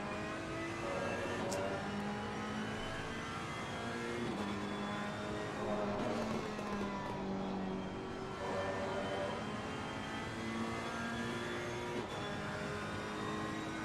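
A Ferrari GT3 race car in a racing game screams at high revs, the engine pitch climbing and dropping through gear changes, continuous and loud throughout.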